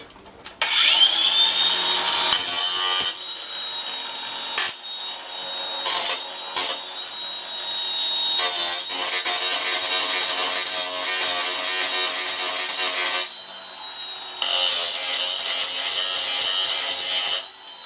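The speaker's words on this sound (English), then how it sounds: "I'm going to use the grinder to do this next bit" A grinder cleans up freshly made holes for an arming belt in medieval armor, a loud steady high-pitched grinding and rubbing in long bursts broken by brief pauses, with no talking.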